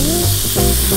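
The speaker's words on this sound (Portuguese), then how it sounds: "tem que deixar quieto nessa panela quente com um pouco de azeite ou de óleo" Beef cubes searing in a hot pan with a little olive oil or vegetable oil, a loud, steady, close sizzle throughout with no talking.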